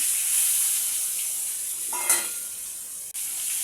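Eggs poured one by one into a hot pan for an egg and coconut dish: a low steady hiss, then a sharp burst of crackling sizzle, then a brief clank near the end.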